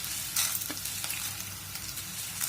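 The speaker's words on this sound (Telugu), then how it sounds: "శనగపప్పు మినప్పప్పు ఆవాలు వీటిని కూడా వేసుకొని మనం వేయించుకోవాలి" Chana dal, urad dal and mustard seeds fry in hot oil in a pan, giving a steady close crackling sizzle with a few sharper pops throughout and no talk.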